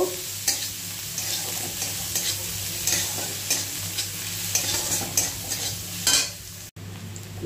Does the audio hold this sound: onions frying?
yes